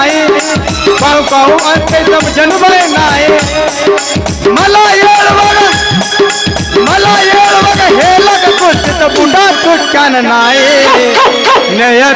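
A performer in a Kannada comedy stage play imitates a dog barking with rhythmic bow-bow calls woven into loud, continuous singing and music.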